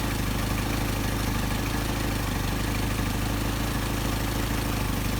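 A Mercedes 190SL engine idles on Solex carburetors, a steady, even low rumble that stays close and constant throughout, with no voices.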